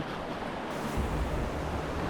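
Rushing water on the Cheoah River, a continuous broadband wash that swells slightly midway, heard up close and without voices.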